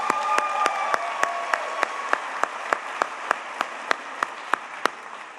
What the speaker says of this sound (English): One more round of applause for Miss Pam Glover.